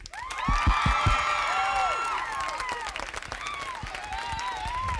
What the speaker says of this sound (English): let's give everybody another big round of applause for the good job they did